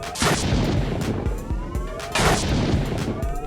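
Grenade blasts in the video game S.T.A.L.K.E.R.: Shadow of Chernobyl, two loud booming explosions about two seconds apart, each with a sharp crack and a rumbling tail, over a dense layer of in-game clatter and repeated thuds.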